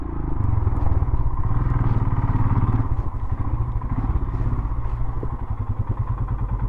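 A motorcycle engine idles close by, a steady, loud low rumble with some rattling as the bike is pulled in and parked on arrival at a house in Gorkha, Ghyampesal.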